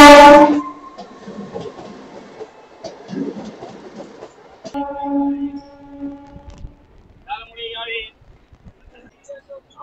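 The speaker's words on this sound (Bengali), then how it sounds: "আমাদের ট্রেন এখন ঝাঁটি পাহাড়ি স্টেশনে এসে পৌঁছালো" A MEMU express train pulls into Jhantipahari station, opening with a sharp horn blast, then intermittent clanks and tonal squeals as it slows, with quieter gaps between.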